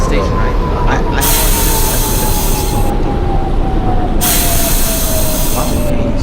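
Simulated New York subway 4 express train in OpenBVE, a loud continuous rumble of wheels on track with a sliding whine and bursts of brighter rattling, steady and close throughout.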